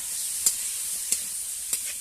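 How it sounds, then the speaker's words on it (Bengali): Potato and tomato pieces sizzle steadily in a hot pan with fried onion, a constant close hiss broken by three light stirring scrapes at even intervals. "এবারে আলু টমেটো কুচিটা দিয়ে দিলাম"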